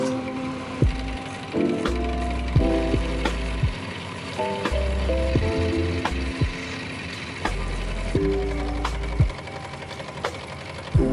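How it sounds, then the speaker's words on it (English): Trimming the sides of a wooden part for a letterpress impression depth mechanism, a series of short rapping bursts of cutting with sharp knocks and clicks between them, close and fairly loud, with no talk. "I'll trim the sides to match the round end."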